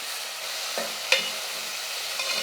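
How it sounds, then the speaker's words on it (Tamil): Onions and tomatoes sauté in a pan with a soft, low sizzle and a couple of light utensil clicks, fairly quiet and without voices. "தக்காளியும் நல்லா வதங்கட்டும்"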